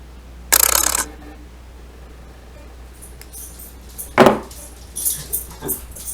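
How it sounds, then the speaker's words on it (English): Wire cutters snipping beading wire, two distinct sharp snaps a few seconds apart followed by small clicking handling noises, close and fairly loud against quiet room background. "these are my wire snips, sorry, wire cutters. I'm going to cut that off, and it might take a few little cuts to get that off"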